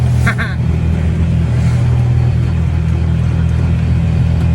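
A Bajaj Maxima Z tuk-tuk engine labors up a steep slope, a loud, steady low rumbling drone that holds under load without letup, close and continuous after a brief squeak at the start.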